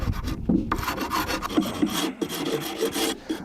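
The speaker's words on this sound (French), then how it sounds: "on va commencer par gratter le dessus de la ruche" A hive tool scrapes across the wooden top of a beehive in a series of rough, rasping strokes, close and loud, with brief pauses between passes.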